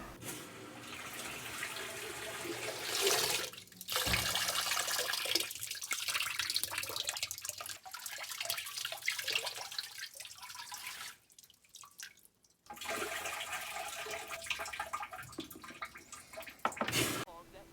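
Water sloshing and dripping as a sequined, embroidered vest is hand-washed, with steady splashing and trickling across the whole stretch, a few brief pauses, and a voice speaking intermittently underneath.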